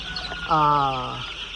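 A broiler chicken on a poultry farm of 1,600 birds gives a single loud, drawn-out call with a clear tonal pitch, close by, against a quieter background of other birds.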